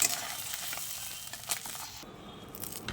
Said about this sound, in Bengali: ওই তেলের মধ্যেই আমি ফুলকপিও ভেজে নিচ্ছি।